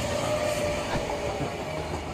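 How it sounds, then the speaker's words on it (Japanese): An Odakyu Line train rolls into a station platform with a rumbling, rattling clatter of wheels on rails and a faint high whine, steady and fairly close. "反対側からも電車がやってきます"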